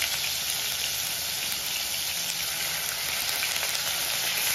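Onion paste sizzles loudly in hot oil in a pan for a Bengali yoghurt-style katla fish curry, a steady dense crackling hiss that carries on without a break and with no talking.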